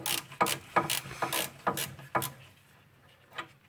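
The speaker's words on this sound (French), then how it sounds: "C'est du 19 à cliquer, donc il suffit de desserrer." A 19 mm ratchet clicks while loosening the fasteners on a Mercedes C180 front shock absorber. About eight quick ratcheting clicks come in a short, uneven run, close and fairly quiet, followed by one last faint click.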